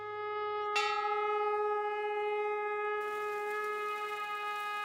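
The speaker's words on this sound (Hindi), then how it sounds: "जो मंदिर के घंटों और शंख की गूंज आप सुन रहे हैं वो भगवान शिव को समर्पित है" Temple bells at the Vishwanath and Ardhanarishvara Shiva temple in Guptkashi ring with a long, sustained metallic hum, a fresh strike at about 0.7 seconds and more clanging added near 3 seconds, steady and fairly close with no talking.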